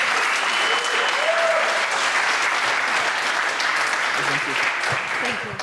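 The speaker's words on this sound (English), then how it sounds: "So let's give you also a round of applause" Dense, steady round of applause from a crowd at a game jam final event in Funchal, Madeira, close and loud throughout, easing off slightly at the very end.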